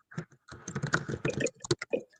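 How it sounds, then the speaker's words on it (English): Quick bursts of typing on a computer keyboard, close and busy, with a voice talking at the same moment. "I hear typing."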